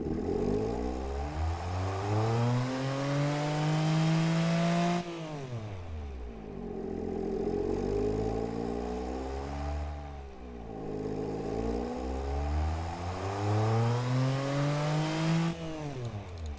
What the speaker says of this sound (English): it starts to sound more like a Honda VTEC engine up here